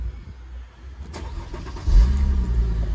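A Mercedes SL350 engine turns over and catches at close range, settling into a steady low idle rumble.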